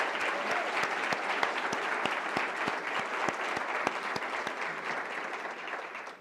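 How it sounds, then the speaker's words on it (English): A crowd at the 2025 New Hampshire State of the State event applauds the board of directors, dense sustained clapping with sharp individual hand claps punctuating it evenly from start to finish. "A big round of applause for our board of directors."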